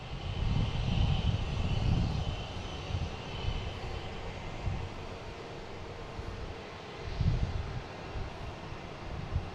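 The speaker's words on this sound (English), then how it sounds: "next taking off is Delta, heading to Tampa" A Delta jet takes off from Boston Logan, its engines a broad, continuous roar at moderate distance, with low rumbling swells rising and easing throughout and some wind noise mixed in.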